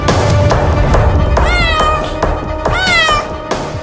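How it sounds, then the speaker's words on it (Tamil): A cat meows several times in rising, wavering cries, fairly close and loud, inside a closed warehouse, with background noise around it and no speech. "பூனையா?"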